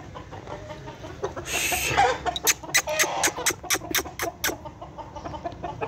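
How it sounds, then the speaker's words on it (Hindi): A black laying hen clucks in a quick run of sharp, evenly spaced calls, close and fairly faint, after a brief rustle. "बड़ी प्यारी मुर्गी जी, ब्लैक है।"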